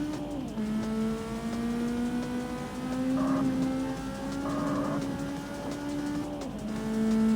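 Car engine in the CarX Street racing game holds a steady drone that rises and drops through several gear shifts, with faint tire noise and no talk.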